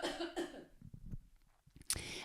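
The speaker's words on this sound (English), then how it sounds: "I need to cough." A person coughs a couple of times, close and moderately loud, followed by quieter throat sounds and a short sharp burst near the end, with no talking.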